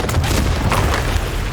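A heavy stone cave door bursts open with a deep rumbling boom that keeps rolling and roaring without a break.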